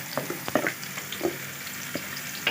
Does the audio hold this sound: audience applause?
no